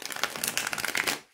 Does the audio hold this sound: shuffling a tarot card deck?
yes